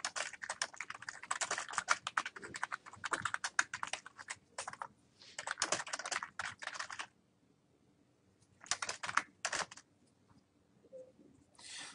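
Typing a Facebook post on a computer keyboard: dense bursts of quick clicking keystrokes with short pauses between runs, close and moderately loud, with no one speaking.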